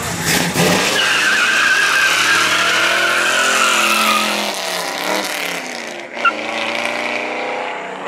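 A Mazda Miata does a burnout at a cars-and-coffee meet, its tires skidding and squealing loudly for several seconds over the revving engine, then the squeal fading briefly before resuming.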